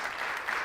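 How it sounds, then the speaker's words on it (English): Brief, steady applause from a workshop audience after a presentation, a dense continuous wash of clapping heard at moderate distance. "one more round of applause"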